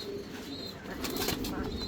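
A male German Blaze pigeon coos softly and low, fairly quiet against a steady background hum, with no talking.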